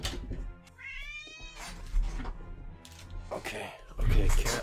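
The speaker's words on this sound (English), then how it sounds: "Cat on my lap." A house cat meows with a few drawn-out, rising calls amid rustling and soft thumps, close and fairly loud.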